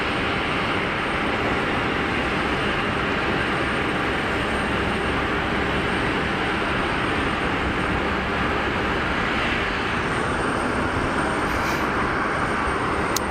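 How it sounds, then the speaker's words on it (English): A Swiss Airbus A220 jet rolling for takeoff at Geneva Airport, a steady loud broadband engine roar that holds unbroken throughout. "Swiss A220 is rolling."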